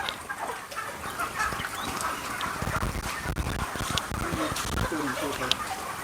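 Broiler chickens on a poultry farm of about 2,500 birds cluck and call continuously in a dense, busy chorus, with a voice faintly present.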